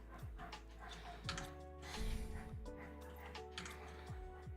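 A small dog barks in short, repeated yaps at close range, with a few brief pauses between bursts.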